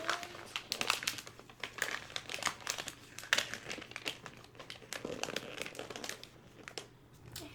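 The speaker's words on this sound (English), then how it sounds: "fold the two sides in. Bring that up, tape it, and flip it around" Wrapping paper crinkles and rustles continuously as a birthday gift is folded and taped, close and fairly soft, with irregular crisp bursts of crumpling throughout.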